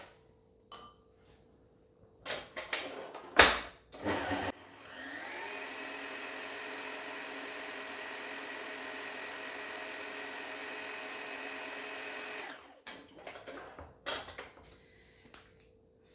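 An electric mixer whirs steadily through vanilla cupcake batter for several seconds, a continuous mid-level motor drone framed by scraping and clattering bowl sounds before and after.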